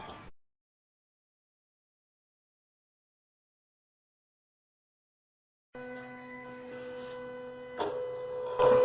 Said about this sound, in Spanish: con esto se puede imprimir con esta impresora de vinilo